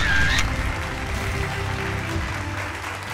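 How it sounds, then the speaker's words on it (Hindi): An audience at a Rajasthan health and medical discussion event applauds loudly for Shri Prasadi Lal Meena. The dense, sustained clapping is close and fills the whole stretch, with a brief sharp accent at the start. "श्री प्रसादी लाल मीना जी के लिए एक बार जोरदार तालियां।"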